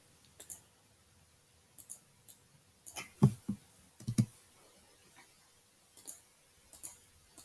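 Someone types an email address on a computer keyboard, producing sparse, irregular key clicks that come singly and in short bursts in a quiet room, with no talk.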